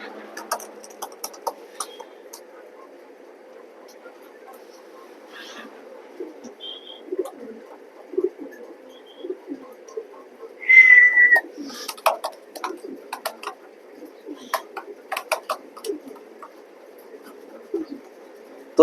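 Racing pigeons at a loft, with a soft, low cooing drone running throughout, close but faint, broken by scattered clicks, flutters and a brief higher call.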